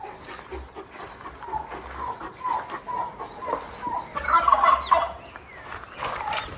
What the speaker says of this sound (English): Bear, please don't eat the baby chicks, okay?